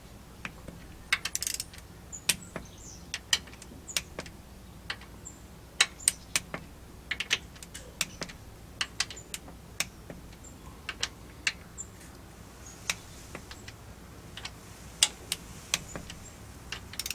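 Sharp metallic clicks and ticks ring out irregularly as a torque wrench tightens cam gear bolts on a Toyota Supra engine, the isolated snaps and clinks standing out over a quiet workshop background.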